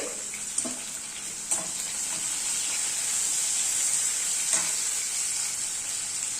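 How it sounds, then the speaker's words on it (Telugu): Onions sizzle steadily in hot oil in a pan for a taro tamarind stew, a continuous close hiss with a few faint stirring knocks and clicks. "ఉల్లిపాయలు యాడ్ చేస్తున్నాను ఉల్లిపాయలు కూడా ఫ్రై అవ్వాలి"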